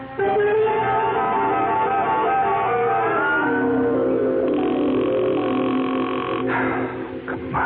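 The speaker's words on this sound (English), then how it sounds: "Will you answer the phone?" A telephone rings on and on without being picked up, its steady electronic tone filling a scene of an old-time radio mystery drama, loud and close with no voices over it.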